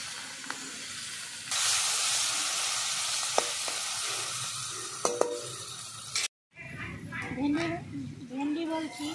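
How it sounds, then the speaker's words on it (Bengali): Prawns hit hot oil in a wok with a sudden loud sizzle that hisses steadily for several seconds, then cuts out before a person starts talking. "এবার চিংড়ি মাছগুলো প্রথমে ভেজে নেব।"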